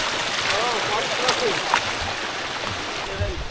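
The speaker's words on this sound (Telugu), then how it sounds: "so water crossing" A motorbike fords a rushing monsoon stream on a ride to Netravati Peak, with steady broadband water noise and splashing throughout, plus faint voices and a few high chirps over the flow.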